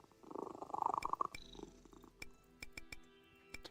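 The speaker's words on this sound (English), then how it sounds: "cat make sound" A cat purrs in the video game While True: Learn(), a soft rumbling purr for about a second, followed by quiet scattered clicks.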